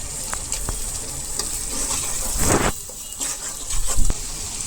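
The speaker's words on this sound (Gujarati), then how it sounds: "હવે તેમાં ટમેટાની પ્યોરી નાખશું।" Tomato puree poured into onions frying in a pan for Tuver Thotha, giving a steady close sizzle with a louder wet gush of frying midway and another surge near the end.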